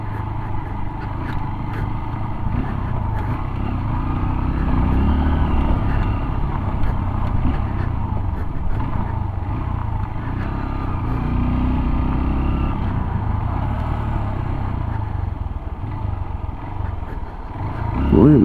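A motorcycle engine runs steadily as it rides along a rough rural road, a low droning rumble with slight rises in revs and some rattling.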